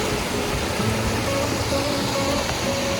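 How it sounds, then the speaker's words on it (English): Steady broadband rush of flowing water fills the whole stretch, a constant roar of a stream running through Samaria Gorge in Crete, Greece, with no voices. "I love it, the sound of the water though."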